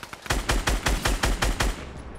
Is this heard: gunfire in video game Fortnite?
yes